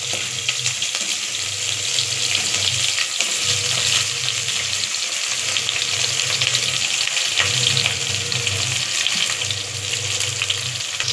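Green chilies and sliced big onion frying in hot oil for a biryani, a loud, steady, close sizzle that runs without a break, with no talking over it.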